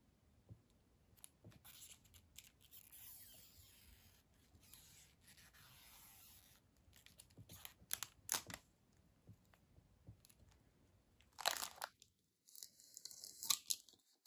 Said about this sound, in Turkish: Önce desteği açıyorum o zaman.